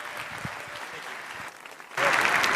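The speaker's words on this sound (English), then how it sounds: "Please welcome, with a very, very warm applause, Tim and Parker." Welcoming applause from a conference audience for two presenters, a moderate spread of clapping that swells louder near the end, with some talk blended underneath.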